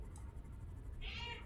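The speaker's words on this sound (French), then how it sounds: "J'ai dit la musique, moi t'as pas ton miaulement." A cat gives a single short meow just after the midpoint, soft and fairly close, over a low steady background hum with nobody talking.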